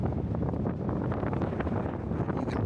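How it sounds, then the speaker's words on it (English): Wind buffets the microphone at a hilltop ruin overlook in Homolovi State Park, Arizona, a continuous rough, low rumble with gusty flutter throughout and no voices. "And it is windy out here."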